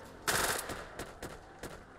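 Rapid bursts of gunfire from the zombie video game Go Go Zombie crackle, one heavier volley followed by several sharper, spaced shots, with a flat, game-like quality.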